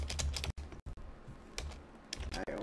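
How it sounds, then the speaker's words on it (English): Password being typed on a computer keyboard, a quick run of clicky keystrokes in short bursts with brief pauses, close and clear with no talking. "always tend to type my password in wrong for some reason"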